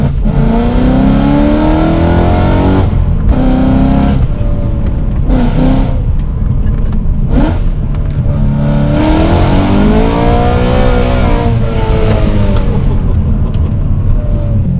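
A BMW M3 E92 engine revs hard and high for a long stretch, held loud and close throughout, its pitch climbing and falling through repeated sweeps, with no voices heard.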